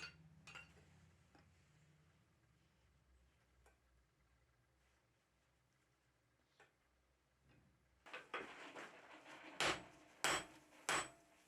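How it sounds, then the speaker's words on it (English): A blacksmith drives the head of a carriage bolt into a curved countersink heading die on an anvil. After quiet light ticks, three loud, ringing hammer blows land near the end, spaced about a second apart. "I'm going to be driving the head of the carriage bolt into a heading die that has a curved countersink around the outside edge."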